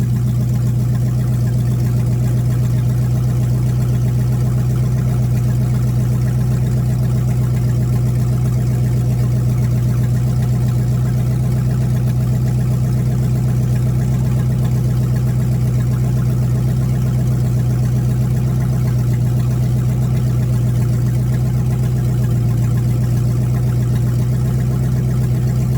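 Warmed-up engine idling steadily, a loud, constant low drone with a strong hum that stays unchanged throughout, close and with no voices.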